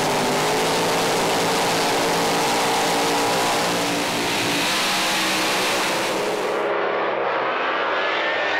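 Funny car drag racers launch down the strip at a drag race, a loud sustained engine roar that stays powerful and then cuts off abruptly near the end.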